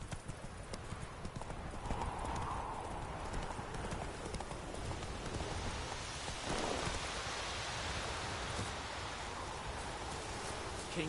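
Hooves pound continuously as Roach, the horse in The Witcher 3 on PS4, gallops at speed, a dense, close drumming rhythm over rushing ambient noise like rain, with no talk.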